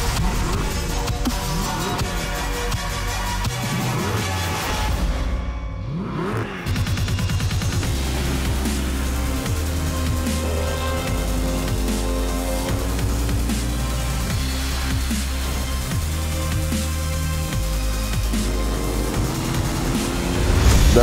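A powerful sports car engine from the Gran Turismo 7 racing game drones steadily for the full stretch, with stepped gear-shift changes in pitch under a dense, loud game mix. A short dip in level comes near the middle.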